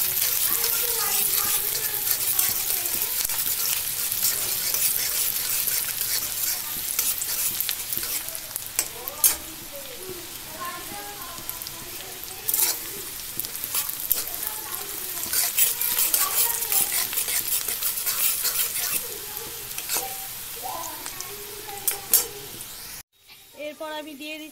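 Prawns frying in a pan sizzle loudly and steadily, with frequent sharp clatters of stirring and occasional splashy bursts, ending with a brief quieter change near the close.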